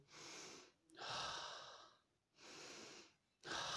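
Deep, slow breaths drawn in and pushed out during a wall sit, a horse-stance style isometric hold: two long inhales and exhales in steady alternation, close and clearly audible with no talking.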